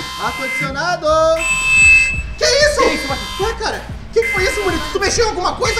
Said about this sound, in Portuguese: Eu acho que isso é um alarme.